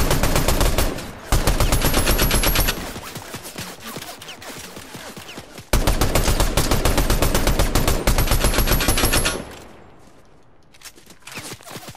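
Fast automatic gunfire in the video game Fortnite comes in long, dense, loud bursts of rapid shots, broken by brief gaps, before fading to quieter scattered shots near the end.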